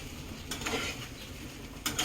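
An egg frying in a pan for egg fried rice, giving a quiet, steady sizzle with a few soft scrapes and taps from a utensil against the pan.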